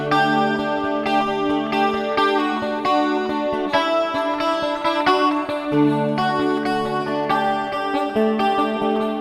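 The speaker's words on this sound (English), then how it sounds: "let me get back to my reverb unit, which is this one. Like I said, is a hall reverb." A 12-string guitar played through a hall reverb effect pedal rings with shimmering strummed chords, repeated strums blooming into long, washy tails, loud and alone.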